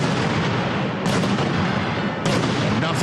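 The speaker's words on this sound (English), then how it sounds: "It's the firing of the cannons." Cannons fire at a football game: two loud booms, about a second apart, rise over constant roaring crowd noise.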